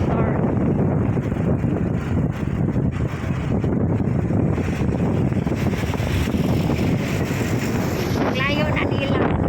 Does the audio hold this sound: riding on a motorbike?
yes